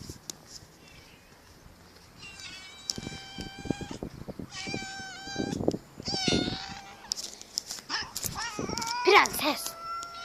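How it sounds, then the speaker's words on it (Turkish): Three street cats meow and yowl back and forth, drawn-out cries rising and falling, with a louder screeching wail near the end. "Evet bu iki kedi anlaşamıyor herhalde."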